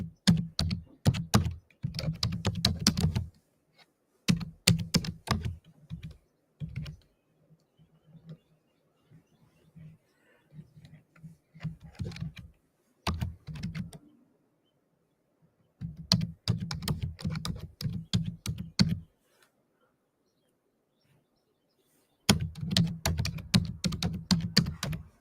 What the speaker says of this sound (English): Let me see if I can type it in.